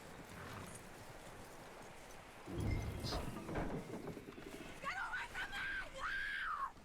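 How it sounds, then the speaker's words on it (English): Hooves clip-clop in a loose rhythm on hard ground in Red Dead Redemption 2, fairly close, mixed with game sound effects and a horse's whinny near the end. "That looks like a decent horse."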